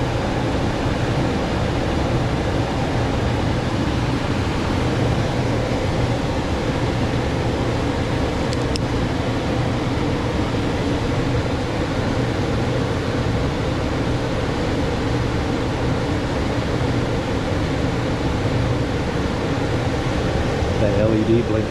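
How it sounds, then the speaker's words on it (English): A furnace inducer motor runs during the start of a heating sequence, giving a loud, steady, close mechanical whir and hum that holds constant throughout. "the fan will kick off, and this inducer motor will start running"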